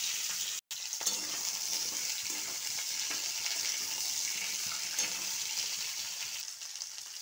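Vegetables sizzle steadily in hot oil seasoned with five-spice tempering, dried red chili and a bay leaf, a continuous close hiss with faint stirring and a brief break near the start.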